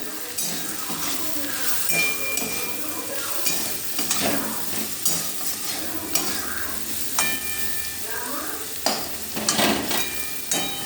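Soybean curry with potato, salt and turmeric is stirred in a pan, giving repeated scraping and clattering strokes over a steady close sizzle.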